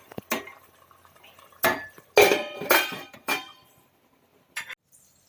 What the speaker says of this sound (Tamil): வெள்ளைப்பூடு நல்லா போட்டு இடிக்கணும்.